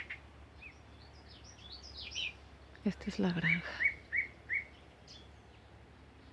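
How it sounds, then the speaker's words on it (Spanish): Birdsong on a farm path in the countryside: a few bright chirps and tweets scattered across the clip, with brief rustling and a short spoken phrase midway. "Amo el sonido de los pájaros"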